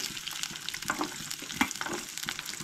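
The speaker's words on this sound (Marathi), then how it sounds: "कांदो बीन आतां भाजून घेवया." Onion and garlic frying in hot oil, a bright crackling sizzle with a few sharper pops and stirring scrapes, close and continuous for a couple of seconds.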